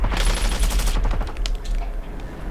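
Rapid SMG gunfire in COD Black Ops 7 Zombies, a dense loud burst of automatic shots up close for about a second, followed by scattered sharper shots and rumble as the firing trails off.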